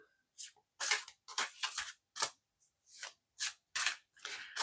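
Tarot cards are shuffled and drawn in a quick series of crisp, close riffling and sliding bursts, separated by short silences, with no talking.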